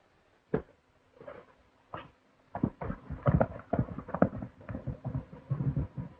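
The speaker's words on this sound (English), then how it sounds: "Someone who rides El Maghrib's horse is approaching." Hooves clop on hard ground, starting sparse and faint, then growing into a quicker, louder irregular beat as a horse draws near.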